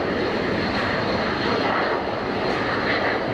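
A Jetfly PC-24 business jet roars through a takeoff roll at Geneva Airport, a loud, steady broadband engine rush that holds close and unbroken throughout.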